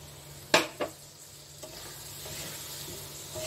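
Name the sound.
water added to spice paste sizzling and being stirred in pan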